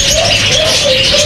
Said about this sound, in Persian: یک پرنده بسیار زیبا